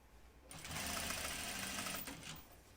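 Sewing machine stitching a bias facing to the inside of a neckline with contrast thread: a steady, close mechanical whirr running for about a second and a half, then slowing and stopping, with no talking.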